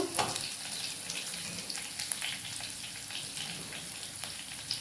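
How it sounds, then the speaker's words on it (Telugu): Onions frying in a pan for a yogurt chutney, giving a steady, soft sizzle with faint crackles throughout, close and fairly quiet, with no talking. "ఎర్రగడ్డలు ఇవి ఎర్రగడ్డలు కొంచెం ఫ్రై అయిపోయినాక"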